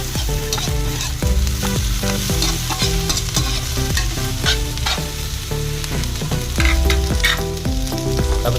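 Shredded cabbage is stir-fried with carrot for seafood pancit canton with squid and shrimp. The sizzle and the scrape of the stirring utensil in the pan are loud and close, over steady background music, with no voices.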